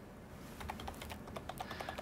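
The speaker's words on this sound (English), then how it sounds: "typing in the password for the wireless network," Fingers type a Wi-Fi password on a computer keyboard, a quiet run of light, quick key clicks coming in an uneven rhythm at close range.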